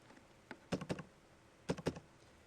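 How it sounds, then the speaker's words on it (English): Fingers type on a computer keyboard in two quick bursts of clacking keystrokes, close and clear against a quiet room. "As I start to type in the property information"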